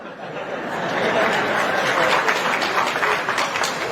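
A crowd at a political rally applauds for several seconds, a dense wash of clapping that swells and holds, mixed with some laughter and murmuring.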